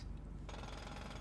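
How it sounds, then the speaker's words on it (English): A drill in GTA V starts up abruptly partway through after a low rumble, then grinds on in a rapid, rattling hammering, faint and without speech. "Did you bring the fucking drill?"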